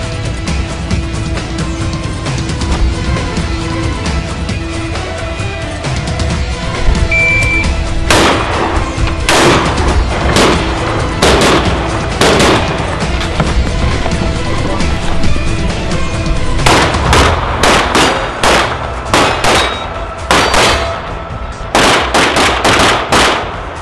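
Long guns firing at a military shooting competition: sharp, loud shots ring out in irregular bursts and rapid clusters over a constant background rumble, some close together like quick doubles.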